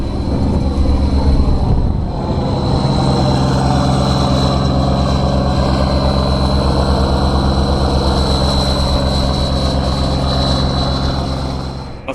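A heavy boat engine drones steadily with a deep, loud rumble and a constant tonal hum, unchanging from start to finish, heard from the top end of the engine.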